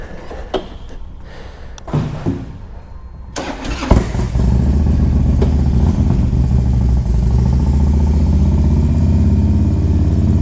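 A Harley-Davidson Street Glide CVO with big pipes, fitted with older standard Street Glide wheels, gives a few clicks and clanks and then cranks and starts, settling into a loud, steady, deep idle rumble close by.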